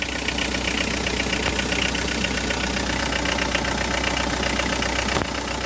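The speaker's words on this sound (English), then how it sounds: "The engine looks and sounds fine." A 2005 Hyundai Porter TCI double-cab diesel truck idles with its engine bay open, giving a steady, even, close-up drone with a faint rhythmic knock and no talking.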